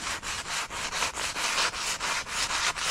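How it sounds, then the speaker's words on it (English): A piece of sandstone rubbed back and forth over soft, freshly set grout lines, giving a rhythmic, close gritty scraping in about a dozen even strokes with no voices. "rubbing the grout lines that need a little bit of a clean up"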